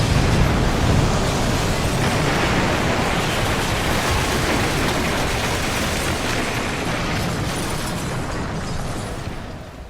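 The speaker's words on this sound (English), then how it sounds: "Robbie, I heard an explosion, and Jade might be on it." A loud, broad roaring rumble like the aftermath of an explosion, sustained and gradually fading over several seconds.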